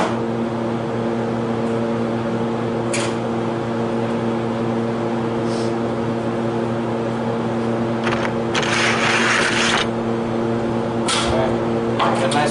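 An arc welder set at about 80 amps welding a steel mailbox outdoors in a breeze: a steady, loud electrical hum and crackle throughout, with brief bursts of sharper sizzling spatter.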